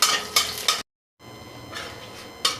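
Dried chili and bay leaves sizzle in hot oil in a pan, a steady frying hiss broken by a few sharp stirring scrapes, with a brief gap of silence midway.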